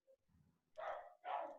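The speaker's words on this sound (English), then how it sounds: "that's my dog. Do you hear that?" A dog barks twice in the background, two short, fairly loud barks close together with a faint yip just before them and no talk over them.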